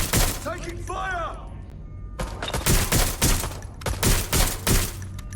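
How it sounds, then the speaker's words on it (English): Rapid bursts of automatic gunfire crackle through a firefight in the video game Watch Dogs: Legion, dense repeated shots following a brief stretch of warbling game voice and effects. "Taking fire!"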